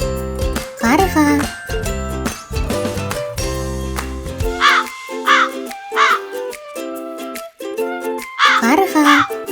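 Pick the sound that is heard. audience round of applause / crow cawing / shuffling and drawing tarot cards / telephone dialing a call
crow cawing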